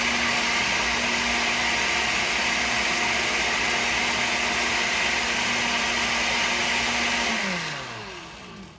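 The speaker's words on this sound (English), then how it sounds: "add the ingredients into this blender and get it nice and blended up" A blender whirs steadily as it purees lime, lemon zest and vinegar into a peri peri sauce. The loud, even motor drone runs for about seven seconds, then slows and winds down to a stop.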